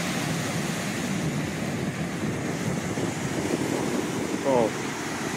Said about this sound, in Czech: Moře se blíží čím dál blíž a blíž.